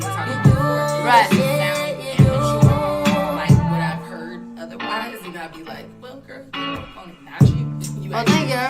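An unfinished hip-hop beat meant as the last song on a mixtape plays alone, with heavy punchy low hits repeating in a loose rhythm under layered melodic tones, dropping briefly quieter in the middle before the hits return.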